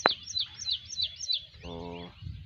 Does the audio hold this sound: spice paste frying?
no